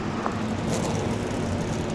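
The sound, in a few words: IndyCar engines running in NASCAR Racing 2003 video game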